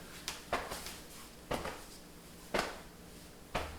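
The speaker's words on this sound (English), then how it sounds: "I'd like you to tap on the back of the spine, the lower spine." Hands tap on the lower back along the spine in a qigong routine, making soft, dull pats at a slow, steady pace of about one per second, close and quiet with no talking.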